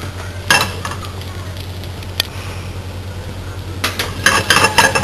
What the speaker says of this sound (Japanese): でマッシュルームですね、強火でソテーしてください。